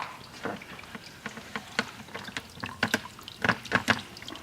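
Wort drains from a mash tun into a boil kettle in a home brewing setup, heard as irregular trickling and splashing liquid that swells and fades, fairly close with no voices.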